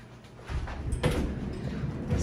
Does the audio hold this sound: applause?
no